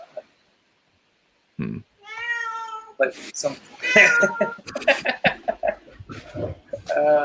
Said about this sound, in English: Hey, kitty. How old are you now?